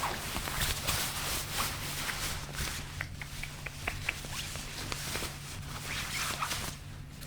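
Soft rustling and brushing of thrifted clothes being handled and turned inside out, close and steady with small clicks and taps scattered through, over a low constant hum.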